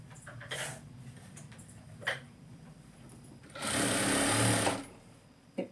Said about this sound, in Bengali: তো আমি কিন্তু এইখান থেকে চাপ সেলাই দিয়ে এগুলোকে টান টান করে সেলাই করব।